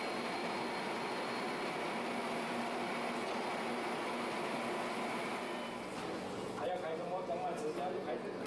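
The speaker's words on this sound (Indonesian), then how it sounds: "Kereta saya sudah tiba, saatnya berangkat." Continuous rumble of a light rail train rolling into a station, with a steady mechanical hum and a brief tonal sound near the end.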